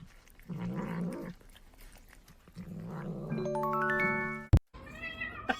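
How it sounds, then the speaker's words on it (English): A cat that loves graham crackers gives low, drawn-out growls and yowling meows at close range, with a loud sharp snap midway and a whiny meow after. "Here's a cat who loves graham crackers."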